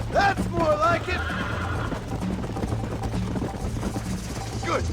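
Horse in the Red Dead Redemption video game lets out a whinny near the start, with hoofbeats and a low steady rumble beneath, and another short neigh at the end while a voice speaks.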